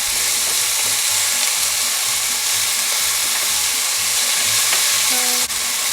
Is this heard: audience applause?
no